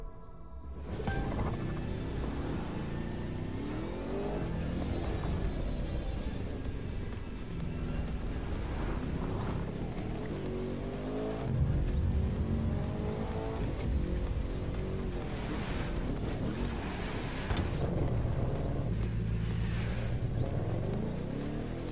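Racing car engines in The Crew 2 roar and rev continuously during a race, loud and steady with pitch sweeping up and down through gear changes over the full stretch.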